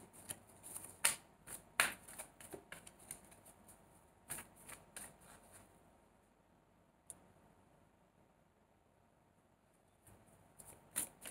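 Tarot cards are shuffled by hand close up, with quick bursts of riffling and card snaps. Short pauses and a stretch of near silence break them up before more brisk shuffling at the end.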